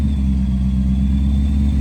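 A Ford truck engine runs steadily after its fuel pump is primed, a loud, continuous low rumble with no pauses and no voices.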